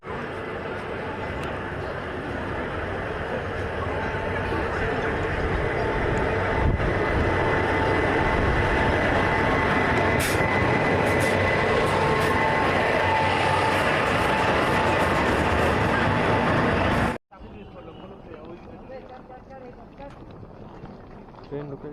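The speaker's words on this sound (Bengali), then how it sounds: "ট্রেন ঢুকে গেছে" The 12022 Barbil–Howrah Janasatabdi Express pulling into Howrah station at night, a steady loud rumbling roar with squealing high tones that drops suddenly to a quieter platform ambience near the end.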